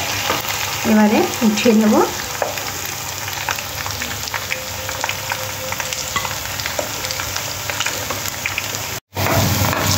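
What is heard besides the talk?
kurkura chicken frying in oil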